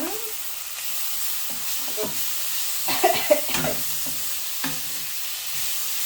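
Vegetables and prawns are stir-fried in a pan, with a soft sizzle under scattered utensil scrapes and taps, close by, and a brief voice heard near the middle.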